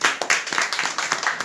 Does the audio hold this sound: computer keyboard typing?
no